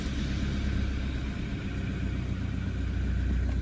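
A Toyota Prado LC120 engine starting up cold after sitting unused for about a week, settling into a steady, close, loud low rumble that runs throughout without any talk.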